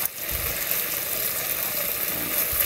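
Chicken tocino in a pan with a little oil and sauce sizzles in a steady, close, crackling fry that continues without a break and no talking.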